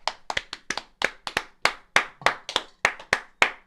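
A steady run of about fifteen sharp hand claps, close and loud, spaced fairly evenly, with no voices.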